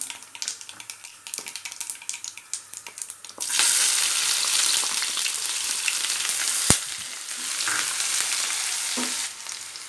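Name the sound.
onion and cumin frying in oil for vatha kuzhambu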